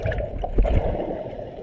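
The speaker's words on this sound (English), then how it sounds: "this one is start above the water, and then these divers go inside the water" AI-generated water sounds of divers going under: a brief, fairly quiet burst of gurgling and sloshing splashes that fades into a low watery murmur.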